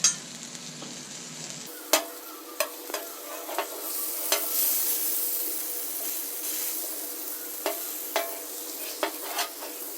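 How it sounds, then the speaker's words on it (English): Steady sizzling hiss of steak frying in oil on a hot griddle, with sharp pops and crackles scattered throughout; close and moderately loud, no talking. "I'm gonna be quiet a little bit so I can let you hear the sizzling that it makes."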